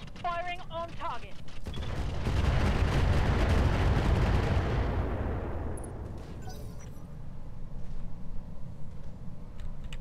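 Mech weapons in the Roguetech video game fire on a target, a loud, sustained barrage of booming, rumbling blasts that swells and then slowly fades, with a brief voice at the start.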